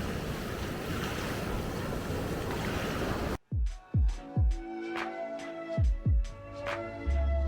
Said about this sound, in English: this beach here gets pumping with waves that surfers love.